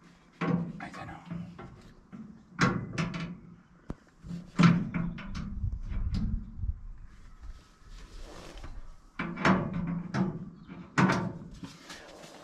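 Metal doors on a tool chest are opened, handled and fitted, producing a series of knocks, clunks and rattles at irregular intervals, close and moderately loud, with no talk.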